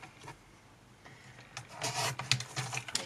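Small pliers or cutters trimming paperclip wire for a handmade pen, heard as a few close, sharp scraping and clipping sounds that grow busier toward the end, with no talking.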